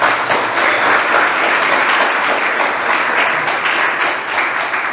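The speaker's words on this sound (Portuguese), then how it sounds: "Vamos dar uma salva de palmas para Jesus." A Catholic church congregation breaks into loud, sustained applause, a thick uninterrupted wash of clapping hands filling the space from start to finish.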